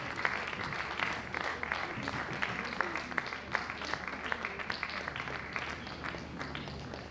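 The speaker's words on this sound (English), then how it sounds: "Keep clapping for him, please," Steady applause from a large audience at a university College of Education conference at UNICAL, dense continuous clapping at an even level throughout, with faint murmuring underneath.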